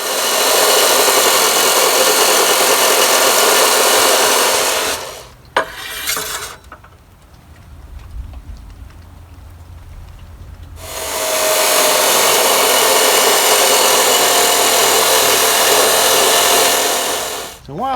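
A chop saw cuts metal linkage bars for a 1976 Case 450 crawler tractor repair, a loud harsh grinding whine for about five seconds, a quieter lull, then another long cut.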